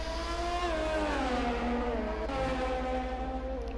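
A Ferrari Formula 1 car in F1 2020 howls at high revs on the Japanese Grand Prix circuit. The engine note shifts pitch as it changes gears, steady and close, with no voices over it.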